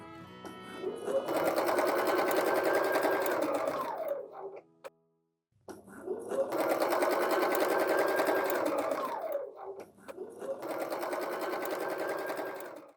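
A sewing machine stitches a fabric oval swag in two long steady runs, its motor whirring loud and continuous, with a short silent stop between runs and a slightly quieter third stretch at the end.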